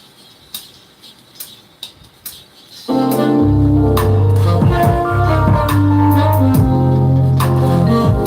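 Bells in a beat being mixed in a studio: soft ticking taps at first, then a loud full mix enters with bright bell-like chimes ringing over heavy bass and drums.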